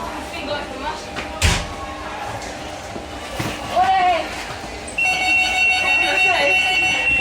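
An electronic train door warning tone beeps steadily as the doors close at a train station in Spain, preceded by a thud and background station noise.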